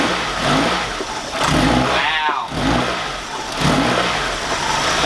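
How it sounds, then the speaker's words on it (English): NX-R engine revving hard, surging up and down in loud close bursts, then briefly dropping out as it stalls before picking up again; a short exclamation breaks in. "It's stalled. Because the engine's moving so much."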